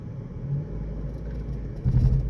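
A Suzuki Dzire with an AMT gearbox in need of replacement drives along, giving a steady low engine rumble with a heavier surge near the end, no talking.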